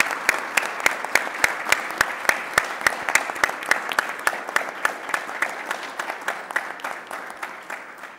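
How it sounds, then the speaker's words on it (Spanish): An audience at an academic congress claps to thank a group of researchers, the claps coming as a steady, evenly spaced rhythm that gradually softens toward the end. "quisiera pedirle al público que despidamos a nuestros colegas con un gran aplauso, merecido por todo su trabajo"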